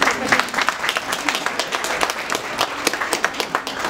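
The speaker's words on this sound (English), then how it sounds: "I'll clap for her please." Lively clapping applause from guests at a Kenyan wedding, many hands striking in quick irregular bursts, close and fairly loud, with some voices mixed in.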